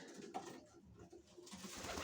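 Soft pigeon cooing and calls from Budapest pigeons under a steady airy background, moderately quiet, with a faint hiss rising toward the end.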